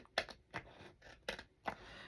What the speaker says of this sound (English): So I just like to take my scissors and just trim off the little bit that's there.